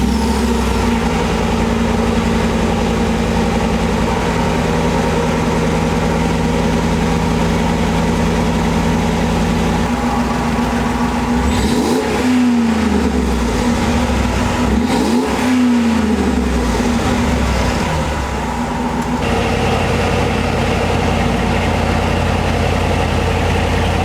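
A car fitted with a new exhaust tip drones at a steady idle, then blips twice in sweeping revs near the middle before settling back, loud and close with no talk.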